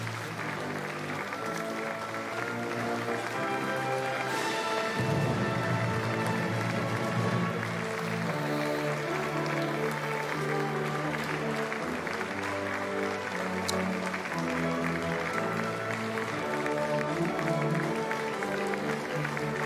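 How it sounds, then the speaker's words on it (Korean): A crowd applauds steadily and densely at a presidential inauguration ceremony in Korea as the president and first lady walk toward the oath stage, with a continuous wash of clapping throughout. "이재명 대통령과 김혜경 여사가 더불어민주당 의원들과 또 일일이 박수를 나누며 선서식장으로 향하고 있습니다"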